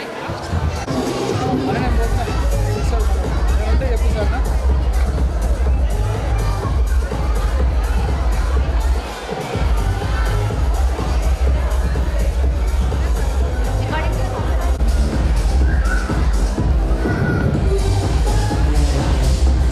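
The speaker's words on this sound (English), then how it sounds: "I believe the clapping is stopping in between" Parents and audience clapping at a school annual fest in Kondapur, a dense, continuous loud wash of applause with crowd murmur, briefly dipping for a moment midway before resuming at full strength.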